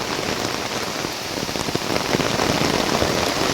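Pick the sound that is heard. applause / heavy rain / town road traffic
heavy rain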